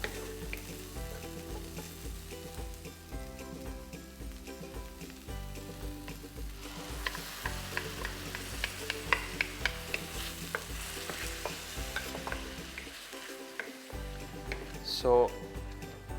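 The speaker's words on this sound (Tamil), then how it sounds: "நம்ம எடுத்து வச்சுருக்கிற நம்ம ஃபைன் பேஸ்ட்டாக வச்சுருக்கிற தேங்காவை இதில் ஆட் பண்ணுவோம்." Fine coconut paste hits sautéed onions in a pan for vegetable white kurma, giving a soft, steady sizzle with light stirring, set under continuous background music.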